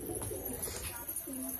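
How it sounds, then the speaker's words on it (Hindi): Pet pigeons of a Punjabi breed cooing in a loft, low soft throaty coos repeating through a steady background hiss, fairly close, with faint speech-like murmurs mixed in. "जो भी जितने भी अपने कबूतर बचे हुए हैं सारे यही कबूतर हैं"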